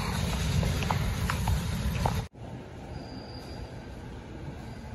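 A train passes at a station in Japan, a loud, close rolling rumble with faint metallic squeals that cuts off abruptly, leaving a quieter, steady background hum.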